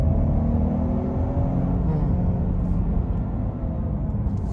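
A Peugeot 408 GT with a 1.2-litre petrol turbo engine accelerates in sport mode, heard from inside as a steady low engine and road rumble with little change in pitch and no talking.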